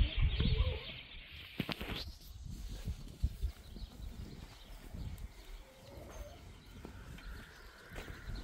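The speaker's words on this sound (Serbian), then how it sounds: "Ptičice pjevaju, gacka nešto teče" Birds call outdoors among flowering plants, with scattered chirps and soft cooing over quiet ambience and occasional rustling, all fairly distant and faint.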